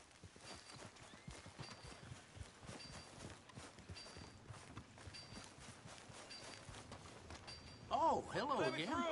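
Horse hooves clip-clop at a steady walking rhythm in a cowboy video game, moderately loud with game music and effects underneath, growing busier toward the end.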